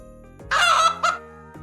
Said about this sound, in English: A chicken and a chick.